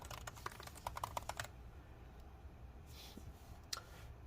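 Keystrokes on the keyboard of a mid-2017 15-inch MacBook Pro A1707, a quick burst of close, crisp clicks for about a second and a half, then near quiet with one last isolated tap.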